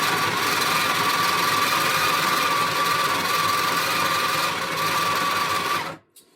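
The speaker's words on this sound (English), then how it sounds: "Now I'm going to grind the beans." A Breville Express espresso machine's built-in grinder whirs steadily and loudly as it grinds coffee beans, holding a constant motor drone for about six seconds before cutting off abruptly.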